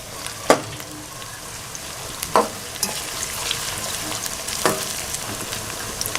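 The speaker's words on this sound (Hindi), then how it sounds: "हम इनको करेंगे फ्राई।" Steady crackling sizzle of bitter gourd frying in a pan, with occasional sharp pops and scraping stirs, close and continuous.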